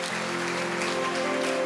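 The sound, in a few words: congregation applause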